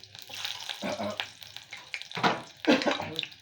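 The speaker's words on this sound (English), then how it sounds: "So the onion is being used to test if it is actually fried up enough or not." Onion sizzling and frying in hot oil while Ekuru is prepared, a steady crackling hiss with stirring bursts close by, under faint background voices.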